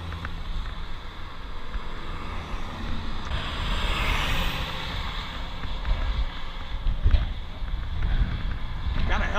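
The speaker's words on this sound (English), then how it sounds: "Got a helping crosswind today." Crosswind buffets the microphone while commuting outdoors, a continuous low rumble and gusting roar that rises and falls, with a voice speaking briefly over it.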